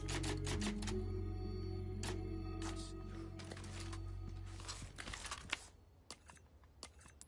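A typewriter in Resident Evil 4 Remake clatters with rapid, close keystrokes over a low humming background, thinning into sparser, isolated clacks toward the end.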